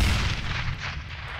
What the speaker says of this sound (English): Best nade toss from Cade, sadly